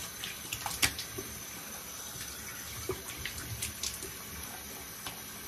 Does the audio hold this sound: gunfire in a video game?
no